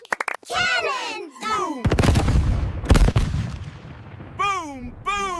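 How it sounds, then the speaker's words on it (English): Cartoon cannon firing in a children's animated castle scene: broadband booms and bangs around two and three seconds, set between stretches of animated character voices. "Watch me fire a pretend cannonball!"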